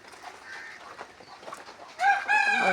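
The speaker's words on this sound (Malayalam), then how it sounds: "ഇവിടെ കോഴിക്കളൊക്കെ ഉണ്ട്." A rooster crows loudly near the end, a harmonic call that follows softer clucking and bird sounds from chickens at a rural home after rain.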